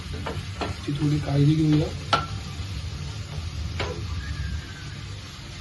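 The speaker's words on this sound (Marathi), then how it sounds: "योग्य प्रकारे चमचा मारून कांदा, टोमॅटो आणि कोलंबी हे तिन्ही व्यवस्थित मिक्स होईल" A spoon stirs onion, tomato and prawns as they fry in a pan. The steady sizzle carries a few sharp clinks of metal, and a voice speaks briefly over the cooking.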